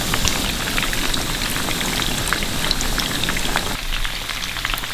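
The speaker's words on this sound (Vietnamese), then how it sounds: "Mình chiên khoảng 3 phút tùy theo độ nóng của dầu và chảo." Stuffed tofu sizzles in hot oil in a pan, a dense, steady crackle and spatter that holds throughout, loud and close.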